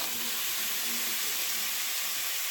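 Soy-garlic marinated meat searing in a very hot stir-fry pan, a loud dense hiss of sizzling fat that holds steady throughout, with no talking.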